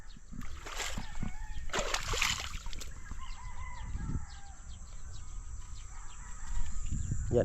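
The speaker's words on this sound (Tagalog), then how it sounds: "papasok na ang tubig sa balon" Irrigation water splashes and gushes continuously into a farm well, with roosters crowing and hens clucking nearby and a brief voice in the background.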